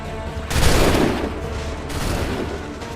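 Musket volley in Assassin's Creed 3, a loud crackling burst of many shots fired together, followed by a second, weaker volley about a second and a half later.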